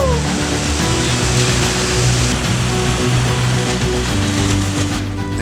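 Creek water rushing steadily along a mountain trail while people swim in it, a constant broadband wash with low splashing bursts, close and fairly loud, no clear voices.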